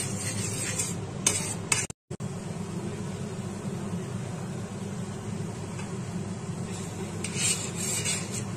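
A spoon scrapes steadily through thickening milk khoa in a pan for gulab jamun, a continuous stirring rasp with faint clinks of metal, close and alone apart from one brief dropout.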